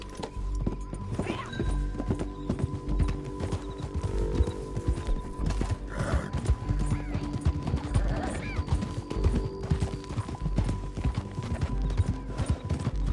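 Steady horse hoofbeats in the video game Red Dead Redemption 2 clip-clop along at a walking pace, close and continuous, with faint rustling and ambient hum in the background.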